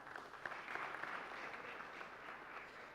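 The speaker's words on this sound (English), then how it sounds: "Kindly give them another round of applause." Audience applause at a launch event, a steady wash of clapping from a crowd, moderately faint and continuous for a few seconds with no talk over it.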